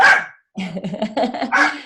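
A dog barks close and loud at its owner indoors, one sharp bark, a brief pause, then a rapid burst of several yappy barks and whines.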